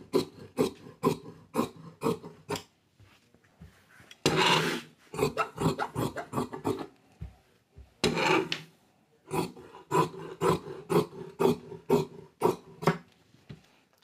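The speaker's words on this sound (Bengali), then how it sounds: "এই মার্জিন অনুযায়ী এখানে কাটিংটি করে নিতে হবে" Scissors cutting kameez fabric along a marked margin, heard as close, rhythmic crisp snips in quick runs, broken by two longer stretches of rougher rustling and rubbing of cloth.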